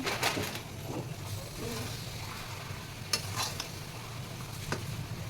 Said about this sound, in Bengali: আবার খুব ভালো করে নেড়ে নিচ্ছি